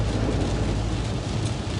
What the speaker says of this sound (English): it is raining quite a bit nonetheless